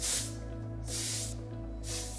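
A styling product is sprayed onto thick hair in layers, three short close hissing bursts separated by brief pauses.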